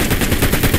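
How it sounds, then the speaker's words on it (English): Rapid gunfire in the Fortnite video game, a dense burst of closely spaced shots filling a short moment, loud and near, with no talk. "How did that last shot not hit?"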